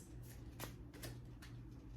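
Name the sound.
shuffling a deck of oracle cards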